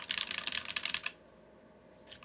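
Typing on a Sneakbox AVA keyboard with a brass plate and Tecsee Ice Candy switches: a rapid run of close, crisp keystrokes for about a second, then a pause and a couple of final taps.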